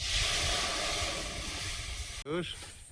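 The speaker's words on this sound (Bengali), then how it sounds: "কড়াইতে জল দিয়ে দেবো" Water poured into a hot wok after frying moong dal, producing a steady loud hissing sizzle that lasts most of the moment, then cuts off as a voice briefly speaks.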